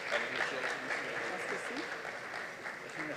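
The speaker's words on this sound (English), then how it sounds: "And while you're clapping for Mr. Hove," Audience applause fills a room at a charity art auction, a brief steady round of clapping at moderate volume with a speaking voice running over it.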